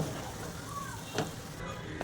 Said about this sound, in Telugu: ఇప్పుడు వీటన్నిటిని మిక్స్ చేసి ఉడికించుకుందాము